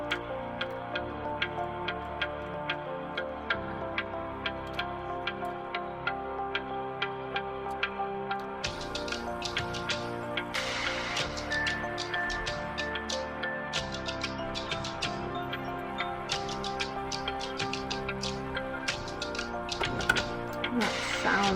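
Electric fence energizer on a ranch making an irregular, odd ticking and crackling rhythm, fairly faint over a steady background hum, with no talk.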